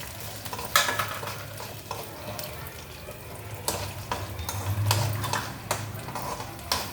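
Urad dal and chana dal temper in hot oil with a steady crackling sizzle, broken by repeated stirring and scraping in the pan, close and fairly quiet.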